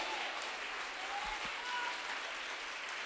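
A church congregation claps together after setting down their Bibles, a steady, dense wash of applause that stays even and fairly distant for the whole stretch.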